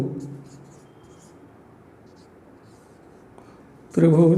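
A pen scratches faintly across paper as a geometry problem about a right isosceles triangle is written down, a soft, low rustle with a voice speaking at the start and end.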